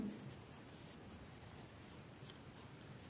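Chalk or a marker scratches and rubs steadily on a classroom board while the word potassium is written, giving a faint continuous scraping texture with no talking.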